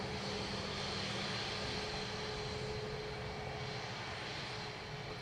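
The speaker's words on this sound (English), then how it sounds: "Swiss Air 321 Neo from Zurich next." A Swiss Air Airbus A321neo jet arriving at Dublin Airport, a steady, loud broadband engine roar that holds evenly for several seconds with a faint tonal whine above it.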